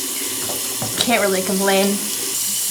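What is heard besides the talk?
water running in bathroom sink while washing face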